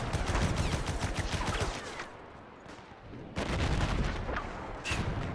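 A World War One video game battle rumbles with artillery and gunfire. Dense bursts of booms and rapid shots come in waves, easing briefly in the middle before surging loudly again.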